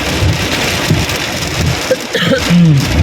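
Heavy rain pours during a storm in Bangkok, a loud, continuous hiss of drops hitting surfaces close by, with a few faint, indistinct sounds in the background.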